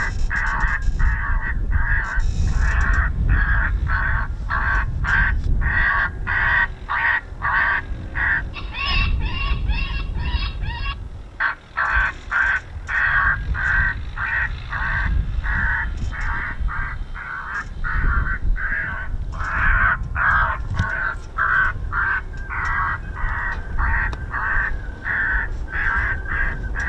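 Crow distress calls broadcast from loudspeakers at the RAF Coningsby airfield repeat as loud, harsh, rhythmic caws in fast runs for the whole stretch, over a low background rumble.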